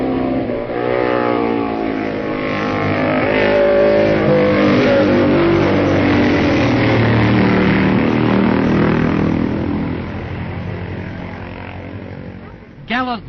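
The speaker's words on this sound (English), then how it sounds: "Just listen to it as Mike takes Hilbury on lap 4" A Matchless racing motorcycle engine roars loudly past at the 1965 TT races, its pitch rising and falling as it accelerates, then fades away before a brief burst at the end.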